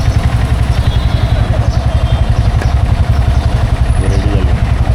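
A motorcycle just back from servicing idles close by with a fast, even, throbbing putter that holds steady and loud throughout.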